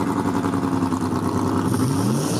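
Southeast Gassers drag race cars roar loudly nearby, engines revving hard with rising pitch sweeps toward the end as they accelerate, with no speech over them.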